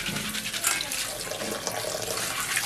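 Water splashes and pours steadily over crabs being scrubbed and washed in a kitchen, a continuous close rush with no speech.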